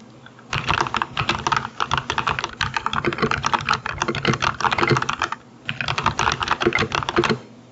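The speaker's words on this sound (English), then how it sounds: "now you can get a demonstration of what some thocky keyboard might sound like" Steady, fast typing on a thocky mechanical keyboard, close up, with deep clacky keystrokes in continuous bursts and two brief pauses.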